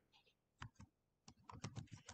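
Keys on a computer keyboard are typed to enter a web address into a browser, in a short run of close, light clicks: a few isolated taps, then a quick burst of keystrokes.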